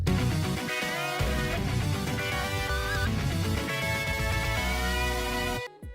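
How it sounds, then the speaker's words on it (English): Custom boss-victory sound from the LittleWigs/BigWigs addon in World of Warcraft: a dense, loud burst of layered music and tones lasting several seconds, then cutting off abruptly. "I have a custom sound in Little Wigs and Big Wigs to play when I beat a boss"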